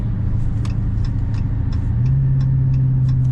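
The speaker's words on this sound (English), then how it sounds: "I love these sounds you get from the supercharger especially" A supercharged Dodge Charger SRT Hellcat Redeye in manual mode pulls hard with a loud, close engine roar that climbs in pitch partway through, with faint ticking over the drone.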